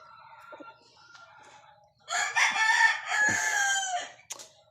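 A captured wild red junglefowl (labuyo) rooster lets out one loud, close crow lasting about two seconds, preceded and followed by quieter clucks and rustling.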